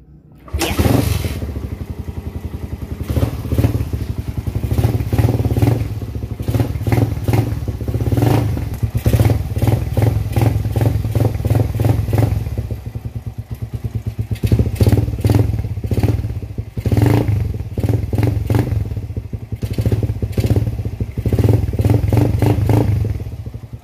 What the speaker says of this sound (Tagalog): Pero bago yun, papaanda rin muna natin yung motor. Pakinggan nyo kung ano yung sounds niya ba.